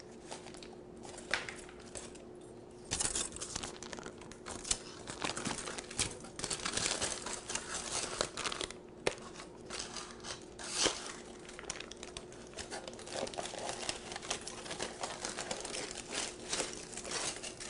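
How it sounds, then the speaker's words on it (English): Tin foil crinkles and tears as it is peeled back from a dish of firm baked brownies, a close, continuous rustling and crackling with short louder rips throughout. "I take them out of my dish and peel back the tin foil."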